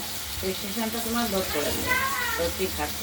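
Pieces of katla fish sizzle in a pan of hot oil, a steady frying hiss throughout, heard beneath a person talking.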